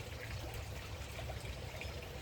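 Pool water rinses through small plastic test tubes, a steady trickling, splashing stream that continues for the whole stretch at close range with no voices.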